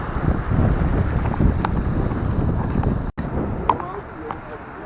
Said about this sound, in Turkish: Dalga yeni düştü, rüzgar da halen var.